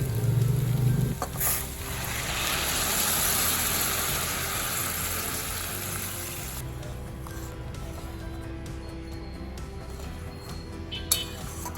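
Hot water poured into a pan of frying potatoes and chickpeas for a vegetarian chana paneer masala: a loud hiss and sizzle at the start that fades into a steadier bubbling simmer, with faint clinks near the end.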